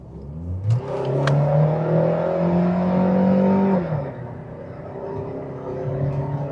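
A race car with a Cummins diesel engine revs up, its engine note climbing into a loud, sustained drone for a few seconds before dropping off and settling into a lower hum.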